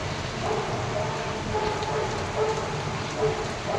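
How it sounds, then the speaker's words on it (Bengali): Steady rain falls on a balcony flower garden, a dense even patter that continues throughout, with faint voices in the background. "এই যে বৃষ্টি হচ্ছে"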